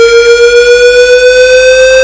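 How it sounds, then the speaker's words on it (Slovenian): A synthetic siren generated in Audacity drones loud and steady, a single sustained tone with strong harmonics and a slight regular pulsing, with no voices. "Sirena!"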